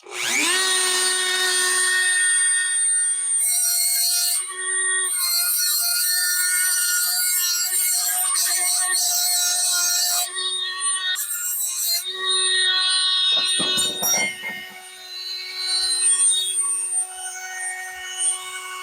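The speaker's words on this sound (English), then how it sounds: "I'm going to use the Dremel again to try and clean it up" A Dremel rotary tool whines at high speed as it grinds and cleans up a metal part, cutting in and out in bursts with short pauses, and a steady tone hums beneath the grinding.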